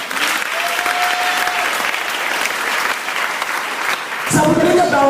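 A church congregation at a Sunday service applauds in a sustained, dense wash of clapping that carries on throughout, swelling louder near the end as voices join in.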